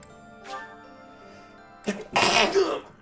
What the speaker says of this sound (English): Sneezing down the mic is bad form